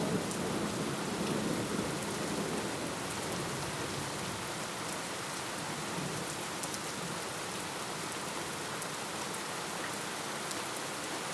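A sudden downpour of heavy rain, heard as a loud, steady, dense hiss of drops hitting surfaces for the whole stretch, with no voices.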